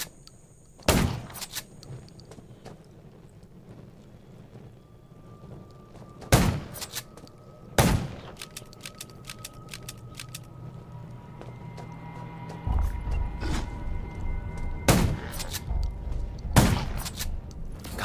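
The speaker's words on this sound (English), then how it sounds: "Gunshots will attract more zombies." Gunshots ring out in Garena Undawn, a video game, as sharp isolated cracks spaced several seconds apart over a quiet game backdrop, with a rumbling hum rising toward the end.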